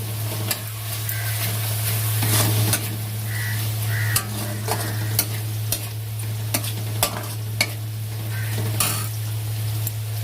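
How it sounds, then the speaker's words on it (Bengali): Coriander powder, cumin powder, kasuri methi and salt sauté in a sizzling pan. A spoon scrapes and knocks against the metal in a regular stirring rhythm, close and clear, with no talking. "ধনে গুঁড়ো জিরে গুঁড়ো কাসুরি লবণ এবার ভালো করে কষে"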